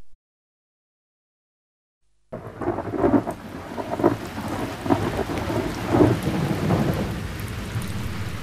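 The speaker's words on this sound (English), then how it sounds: "In August, the weather was very bad. The rain fell. Hour after hour it rained." Rain falls steadily during a thunderstorm, with low rolling rumbles of thunder swelling repeatedly over the continuous wet hiss after a silent opening.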